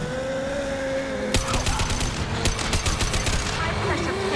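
Rapid gunfire crackles in Mass Effect 2 over a constant game engine hum, a burst of repeated sharp shots starting abruptly and continuing in uneven clusters alongside tonal game effects.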